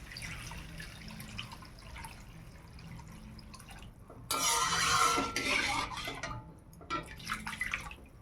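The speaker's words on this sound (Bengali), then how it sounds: "এইবার আমি জল দিয়ে দিচ্ছি।" Water is poured into a pan of fried cumin seeds: after a quiet stretch, a sudden loud rush and hiss bursts out for about two seconds, then fades into softer bubbling splashes.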